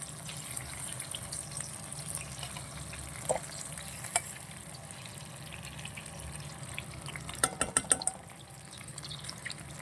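Stuffed tomatoes frying in oil for a curry and being turned in the pan, giving a steady soft sizzle with a few clicks and scrapes near the end, no voices.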